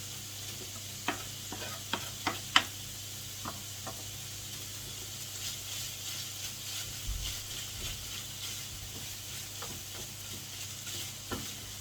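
Beef for Mexican-style loaded wedges fries over medium heat, a quiet steady sizzle broken by scattered clicks and scrapes of stirring, with no voices.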